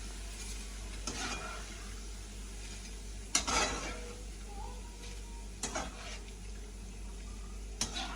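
Breadfruit chips fry in hot oil with a steady, faint sizzle, and a few sharp clinks and scrapes of a utensil stir and lift them, close by and without speech.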